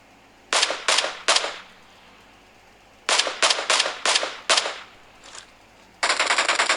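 Bursts of automatic gunfire in PUBG Mobile: loud, close rapid-fire volleys in several groups with short pauses, ending in a sustained burst, with no talk over it.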